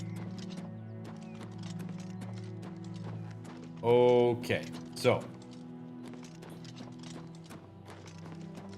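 Steady rapid horse hoofbeats clip-clop throughout in the video game The Elder Scrolls IV: Oblivion, over a droning musical background, with a brief whinny and a short spoken phrase in the middle.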